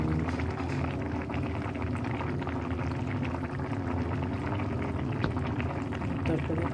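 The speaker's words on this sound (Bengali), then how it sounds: "এখন আমি মাছগুলি ঢেলে দেব।" Tangra fish go into a simmering curry with a steady wet bubbling and sizzling that holds at an even level throughout, with no clear separate splash.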